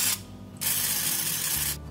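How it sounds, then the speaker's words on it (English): Olive oil spray spritzed over funnel cake dough in an air fryer basket: two long, loud hissing bursts from a nearby can, separated by a brief pause. "I am gonna spritz the tops of these with a little olive oil spray"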